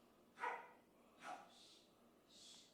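A dog barks twice, faint and somewhat distant, leaving short gaps before soft hissy noise, with no speech over it.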